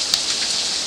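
Heavy rain pours down steadily outdoors during a wet onion harvest, a dense hiss with one brief louder spatter near the start and no talking.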